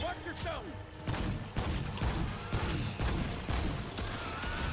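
Rapid bursts of gunfire in the video game Remnant 2 during a hardcore co-op fight, a dense run of repeated shots at steady volume with no talk over it.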